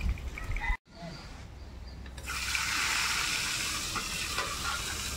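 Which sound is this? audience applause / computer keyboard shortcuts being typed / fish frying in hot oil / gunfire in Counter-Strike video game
fish frying in hot oil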